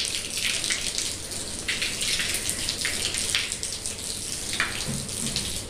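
Lots of water poured out close by in a steady, loud splashing rush during household chores, running continuously without a break.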